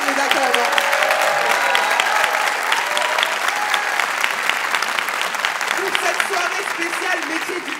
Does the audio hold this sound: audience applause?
yes